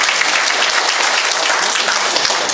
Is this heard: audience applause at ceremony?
yes